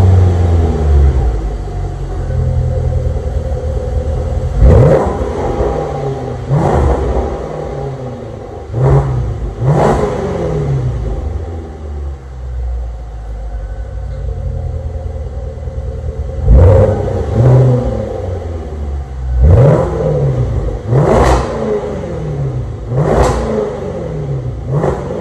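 A Land Rover Velar with a 550-horsepower V8 revs repeatedly, each sharp throttle blip rising to a roar and falling back to a deep burbling idle, in close, loud bursts separated by pauses.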